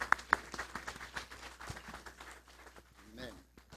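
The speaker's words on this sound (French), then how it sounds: "On nous applaudit, s'il te plaît." Scattered clapping from a church congregation at a Sunday service, with a few sharp individual claps up close at first, then thinning irregular claps under murmured voices and background speech.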